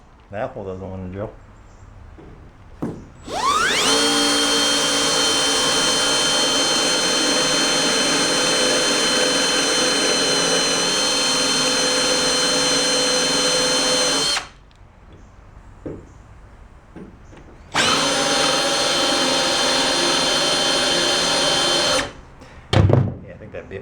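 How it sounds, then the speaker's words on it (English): A power drill bores into rusty trailer metal in two long loud bursts of high-pitched whining and grinding, separated by a short pause with a voice speaking and some handling noise, followed by brief clanks. "That hole doesn't want to drill."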